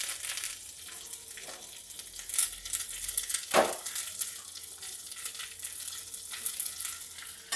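Curry leaves crackle and sizzle in hot oil with mustard seeds and a dried chilli for Mangalore-style unripe jackfruit palya, a steady close frying hiss with sharp spits and one louder burst midway.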